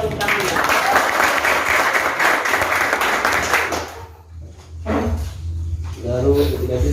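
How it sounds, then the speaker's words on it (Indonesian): Audience applauding teachers at a school event, with loud dense clapping filling the first four seconds, then a brief lull and renewed bursts of applause as voices speak over it. "Lagi kuat tepuk tangannya."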